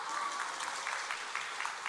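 A church congregation at a Sunday service applauds together, a dense, steady wash of clapping that holds at an even level from start to finish without pauses.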